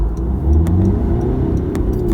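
A Honda Civic Sport with a 1.6 litre 120 horsepower DTEC diesel engine accelerates hard, its engine note droning loud and close from inside the cabin as it pulls through the gears.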